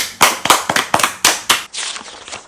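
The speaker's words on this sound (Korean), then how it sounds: "자, 박수!" A quick run of sharp, close hand claps, about eight distinct slaps, loud and alone. They trail into a softer, denser patter at the end.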